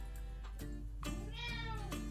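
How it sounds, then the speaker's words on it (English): A pet cat meows several times indoors, short tonal cries repeating at uneven intervals with one longer drawn-out call, fairly close and clear with no talk. "My cat's scratching."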